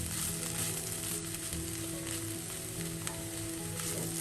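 Papaya thoran, grated raw papaya stir-fry, cooking uncovered in a pan so its moisture can evaporate, a steady, gentle sizzle that stays faint and even, with no voices.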